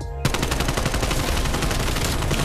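A Z-74u submachine gun fires without a suppressor in the video game Black Ops Cold War, letting off a loud, continuous rapid burst of shots that lasts a couple of seconds.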